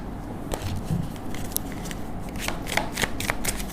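A deck of tarot cards being shuffled by hand close up, with soft riffling and repeated light card slaps in an uneven rhythm and no voices.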